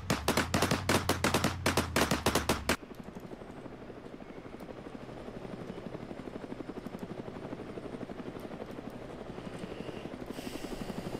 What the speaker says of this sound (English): Nick's helicopter crashed and burned hard.